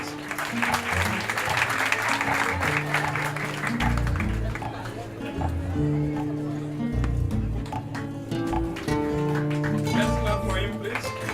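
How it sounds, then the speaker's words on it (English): An audience applauds a refugee-camp student receiving a university diploma, with loud clapping at first that thins out while a voice and sustained tonal sounds carry on underneath. "Let's clap for him, please."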